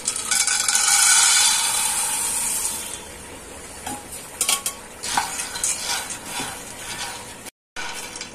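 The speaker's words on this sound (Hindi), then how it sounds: "अब चने को भी हम इसी तरह थोड़ा सा रोस्ट कर लेंगे।" Chickpeas dry-roasting in a pan for homemade protein powder, stirred with rattling, scraping strokes that are loud and busy at first, then thin into sparser clinks and scrapes with short pauses.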